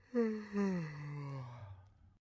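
A single drawn-out, falling vocal yawn, close and soft, trailing off into silence; sounds like a voice performing the yawn.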